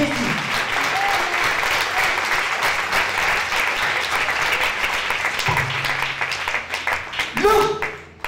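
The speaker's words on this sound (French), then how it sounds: "Acclamez très fort pour Jésus" An audience at a church testimony service breaks into sustained, loud applause and cheering for Jesus, a dense wash of clapping that continues throughout, with a voice speaking over it near the end.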